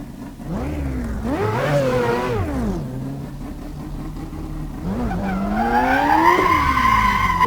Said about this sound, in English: So you drive maximum brake, the car all slides.